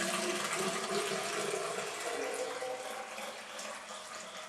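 Water pours and gushes steadily into the narrow section of an aquarium pre-filter, a continuous rushing splash that eases slightly toward the end, with no talking.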